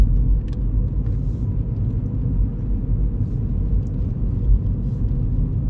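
A Mini Cooper drives on town roads, its cabin filled with a steady low road rumble and engine drone, loud and unbroken, with no speech.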